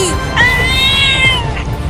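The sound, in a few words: two cats meowing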